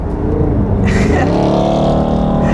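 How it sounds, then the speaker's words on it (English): A car accelerating at full throttle, the engine note rising and building into a loud, close roar that climbs in pitch partway through and holds. "He's going for it. He's going full throttle."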